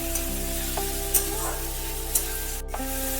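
Grated onion and a small grated tomato sautéing in a pan over a medium gas flame give a soft, steady sizzle under background music, with a few brief stirring scrapes.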